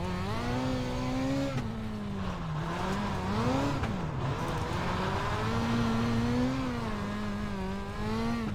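A race car in the iRacing sim at Limaland runs steadily, its engine droning loudly with the pitch rising and falling through corners and shifts, continuous and close with no talk.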